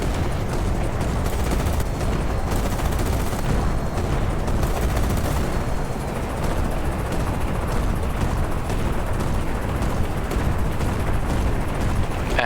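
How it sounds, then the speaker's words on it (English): Constant battlefield gunfire and explosions from a video game match, a dense, unbroken roar of shots and blasts at steady loudness with no voices. "We're seeing first shots out from Thumble."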